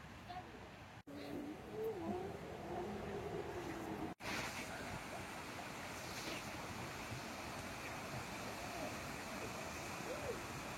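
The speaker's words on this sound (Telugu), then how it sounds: "చూసారా అక్కడ వాటర్ ఫాల్." A waterfall at Loch Lomond, a steady, fairly faint rushing hiss of falling water heard from a distance along a walking path, constant throughout with slight wind noise.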